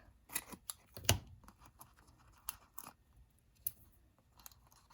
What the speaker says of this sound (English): And I'll go ahead and I'll trim off a couple more of these.